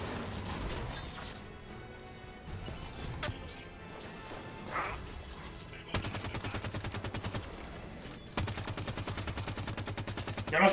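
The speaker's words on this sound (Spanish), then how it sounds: "Evitad los disparos." Rapid bursts of automatic gunfire in the video game Halo 5: Guardians, loud repeated rattling volleys that come in sustained runs, with mechanical clicks and game effects between them and no speech over them.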